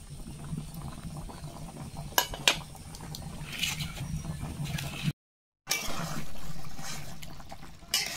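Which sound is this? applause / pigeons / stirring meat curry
stirring meat curry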